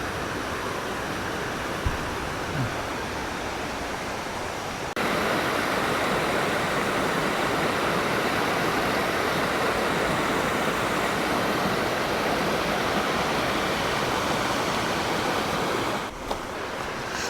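Plentiful water rushing down a rocky mountain valley stream in Yangsan, a steady, loud broadband roar heard up close and alone, with a brief shift in level near the end.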